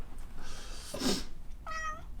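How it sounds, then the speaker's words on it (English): A cat lets out two meows, the second higher and more drawn-out, close by in a quiet garage. "Meow."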